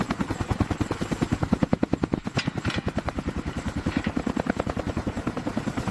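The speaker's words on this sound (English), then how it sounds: "The Chinook doesn't just fly, it pulls the Earth toward it." Chinook tandem-rotor helicopter close by, its heavy blades thumping in a fast, steady rhythmic beat over a deep engine drone, loud and continuous.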